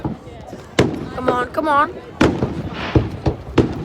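Fireworks bursting in a series of sharp, loud booms and crackles with a spoken voice between the blasts.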